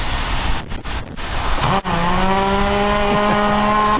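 Machinery works at a busy marina where forklifts and boat lifts operate, with a steady harmonic engine or motor whine rising in pitch and holding loud and close, after a few sharp clanks, with no voices.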